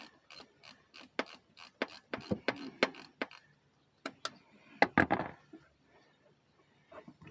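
A hand ratchet clicks in short, sharp bursts while backing out the last transfer case bolt on a 2014 Dodge Durango, and a metallic clunk and a rattle follow as the bolt comes free, all close and unaccompanied by speech.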